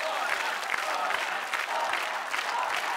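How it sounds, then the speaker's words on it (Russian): An audience applauds at the finale of a televised choir competition; dense, steady clapping and crowd noise fill the whole few seconds at an even level. "Аплодисменты Коле."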